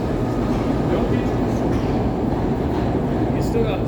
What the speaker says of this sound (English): These trains have been built like the 70s.